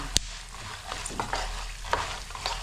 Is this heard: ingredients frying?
yes